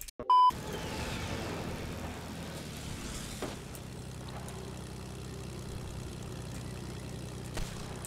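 A propeller airplane engine drones steadily in a video game, a continuous low hum with a brief sharp burst at the start and a rushing swell midway.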